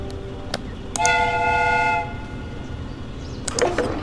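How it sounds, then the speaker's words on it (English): A single steady steam whistle blasts for about a second in a Sherlock Holmes video game, bright and tonal, between a few sharp clicks and a short rattle of mechanical noise. "The steam whistle is ready to be used."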